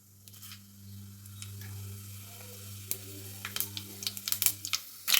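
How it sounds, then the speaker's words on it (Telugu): Mustard and cumin seeds sizzle in a pan of hot oil for a tomato curry, a low steady hiss that gives way to sharp popping and crackling as the seeds burst, close by with no talk. "ఆయిల్ అయితే వేడైందండి. ఇప్పుడైతే పోపు దినుసులు అయితే వేసుకుందాము."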